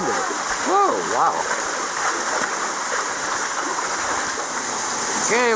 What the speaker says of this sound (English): we found the other waterfall